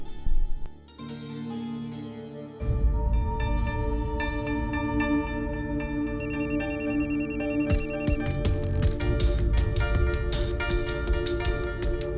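A phone rings with a repeating electronic tone over steady background music, fairly faint, continuing for several seconds.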